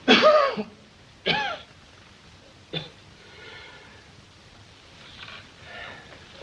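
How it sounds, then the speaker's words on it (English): A man coughs and clears his throat in a few rough bursts, then quieter wheezy breaths follow in a hushed room. "Suppose you wait till he quits coughing."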